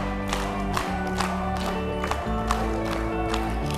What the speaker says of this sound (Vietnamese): Rồi, vỗ tay.